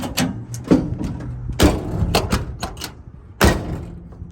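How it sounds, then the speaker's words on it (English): The door on a 1965 Ford F100 truck is shut several times, with sharp, close metallic thuds and clunks sounding in bursts and short gaps between them. "Doors shut good."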